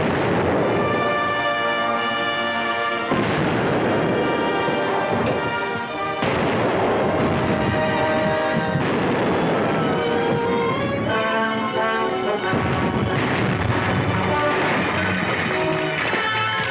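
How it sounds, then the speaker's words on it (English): Ship cannons firing in a naval battle, heavy booms landing every few seconds over continuous orchestral music, loud and close throughout. "Hold to your course. Keep firing."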